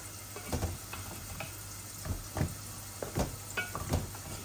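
Dried fish (shutki) fries in a pan with a steady, soft sizzle as a utensil stirs it, producing several brief scraping strokes at an uneven rhythm, fairly close and quiet, with no talking.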